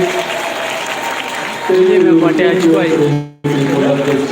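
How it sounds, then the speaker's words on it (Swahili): An audience at a county scholarship award ceremony applauds, a broad patter of clapping that continues beneath a speaker's amplified voice, then cuts out sharply before resuming. "mpigeni huyo mamangu makofi, mpigie makofi."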